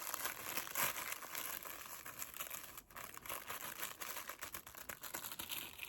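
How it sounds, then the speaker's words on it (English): Soft, steady crinkling of thin packaging or paper handled close up in a quiet room, a continuous rustle with small crackly bursts and no talking. "That was a crinkle for the crinklers."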